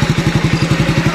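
A motorcycle engine runs after the clutch is engaged, giving a steady, close, rapid thumping pulse at an even rhythm with no talk over it.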